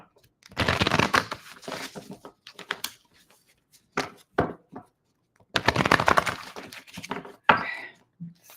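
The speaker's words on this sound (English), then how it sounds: "Final shuffle." A deck of cards being shuffled by hand, two bursts of riffling close up with short taps and thumps between them, and a faint voice near the end.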